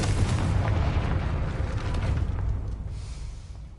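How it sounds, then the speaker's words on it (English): A heavy fire-spell explosion from Hogwarts Legacy booms with deep rumbling low end, holding loud for a few seconds before slowly fading into a softer hiss. "Confringo!"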